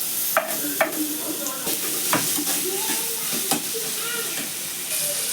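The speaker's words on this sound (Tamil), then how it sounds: "இஞ்சி பூண்டு பேஸ்ட்டு போட்டுக்கோங்க லைட்டாக வதக்கிக்கணும்" A steady sizzle of ginger garlic paste frying in a pan, with clinks and scrapes of stirring scattered throughout.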